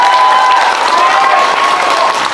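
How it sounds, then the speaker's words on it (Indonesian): A crowd applauds loudly and steadily at a political gathering for young people in Bandung, Indonesia, the dense clapping filling the whole stretch with a faint steady tone ringing underneath. "Tepuk tangan sekeras-kerasnya untuk"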